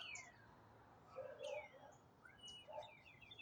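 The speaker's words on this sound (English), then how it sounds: "And I love the birds out here." Birds sing outdoors in faint, scattered chirps and whistled calls, several short phrases spread across a soft, steady ambient background.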